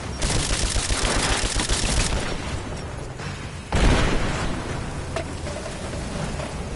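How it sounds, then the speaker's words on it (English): In Rise of the Tomb Raider, rapid gunfire crackles loudly for about two seconds, then a grenade explosion bursts with a deep boom, followed by scattered shots and debris. "Throwing a grenade! Fire in the hole!"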